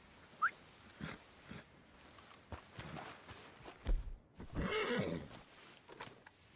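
Horse in the video game Red Dead Redemption 2, giving a short, breathy neigh amid scattered hoof thumps and rustling. The sounds are faint and intermittent, with one louder snorting burst near the end.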